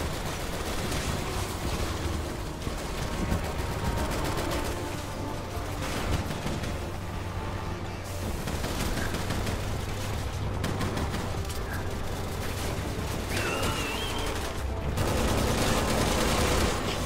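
Continuous rapid gunfire fills a Resident Evil 6 battle scene, machine-gun bursts and overlapping shots rattling loudly and densely without pause over a rumbling vehicle-like background.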